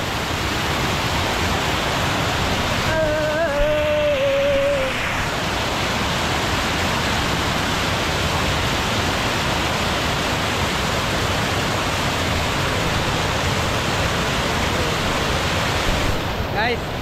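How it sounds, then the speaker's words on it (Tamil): Water cascading in layers over small falls at Kaikilampattu Dam on the Sankarabarani River, a constant loud broadband rush filling the whole span, with a brief high tonal sound near the start. "இந்த தண்ணி வந்து அப்படியே லேயர் லேயரா கொட்டும் போது பார்க்க அழகா இருக்கு"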